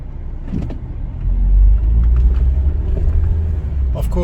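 Car driving along a road in Dubai, a steady low engine and road rumble that swells after the first second and holds, with faint traffic sounds and speech-like noise in the background.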